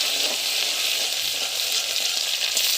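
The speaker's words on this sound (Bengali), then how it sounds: "শাকে বেশি করে শুকনো লঙ্কা আর রসুনটা বেশি করে দিয়ে ভালো করে লাল লাল করে ভেজে নেব বন্ধুরা।" Dry red chillies and garlic fry in plenty of oil for bottle gourd greens, giving a loud, steady, close sizzle with no voices.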